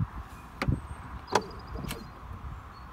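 Soft-close door on a 1996 Mercedes S420 coupe in Azurite Blue, pulled shut with a few short clicks and a faint whir from the closing mechanism, quiet and close over a low background hum.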